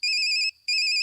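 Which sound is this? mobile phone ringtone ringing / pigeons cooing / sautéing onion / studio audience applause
mobile phone ringtone ringing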